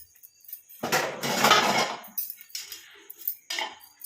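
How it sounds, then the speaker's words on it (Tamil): A lid clatters onto a container of homemade amla hair dye, a brief cluster of hard clinks and scrapes followed by a few lighter taps. "ஒரு மூடி போட்டுடலாம்"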